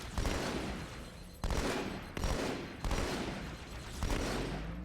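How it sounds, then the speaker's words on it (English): A plasma rifle fires in Halo 2 on Cairo Station, a loud, dense, continuous crackling burst of rapid shots broken into about five sustained volleys, close and alone. "here you'll actually get to see some plasma rifle gameplay, finally"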